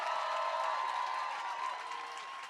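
Sustained applause from an audience at a press conference for a camp, steady clapping that stays fairly even and moderately loud, tapering slightly toward the end, with no one speaking over it.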